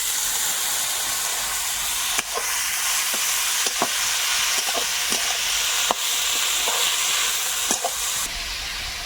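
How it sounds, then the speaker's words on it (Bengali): Chopped garlic, green chili, black cumin and radish fry in hot oil for a chicken curry, a loud continuous sizzle and hiss broken by scattered clicks and scrapes of stirring. "তেলের মধ্যে রসুন কুচি, কাঁচা লঙ্কা আর একটু কালো জিরে দেবো, দিয়ে মূলোটা দেবো"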